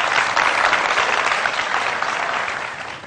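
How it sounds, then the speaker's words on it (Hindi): Dense, steady audience applause at a Ramadan iftar television show, heard right after contestants are wished luck in a close team competition; many hands clap loudly and evenly throughout, fading slightly at the end. "इनके लिए भरपूर तालियां."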